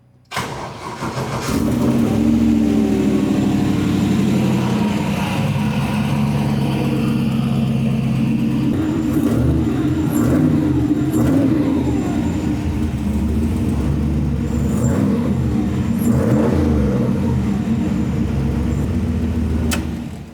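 A truck engine turns over and settles into a loud, steady idle, with a few brief revs lifting the pitch before it drops back.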